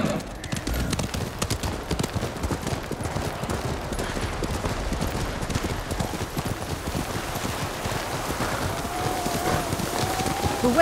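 A galloping horse in the Ghost of Tsushima video game pounds out rapid, steady clip-clop hoofbeats throughout, close and continuous, with brief game dialogue voices over it.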